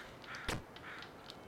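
A crow caws once, short and clear, in the Jump King video game, with faint quieter calls around it and no talking.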